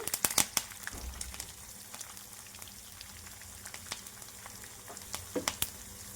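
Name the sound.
tempering of curry leaves and asafoetida frying in oil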